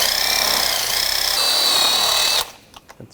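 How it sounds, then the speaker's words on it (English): A wire brush scrubs rust off a wheel bearing hub on a 2013-2022 Buick Encore, a loud continuous harsh scraping for over two seconds that cuts off abruptly, followed by a few faint knocks. "Just gonna take a wire brush"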